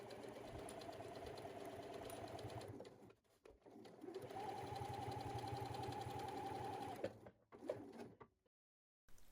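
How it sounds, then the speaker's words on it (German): A sewing machine stitches the side seams of a fabric crossbody bag in two long, steady runs with a short pause between, then a brief final burst, close and even. "Jetzt werden die Seiten genäht."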